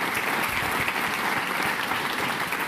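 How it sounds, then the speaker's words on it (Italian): Steady, dense applause from a studio or sports-event crowd greeting members of a football club, loud and continuous without a break. "Un applauso agli amici della Procalcio"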